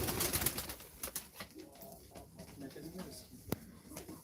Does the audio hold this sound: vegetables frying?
no